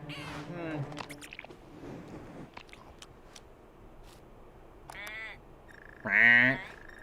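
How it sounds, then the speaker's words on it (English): Bird in a video game making quacking, croaking calls in a few short bursts with quieter gaps and small clicks between, the last burst loudest. "Why is this bird making noises like I do?"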